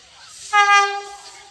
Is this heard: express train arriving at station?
yes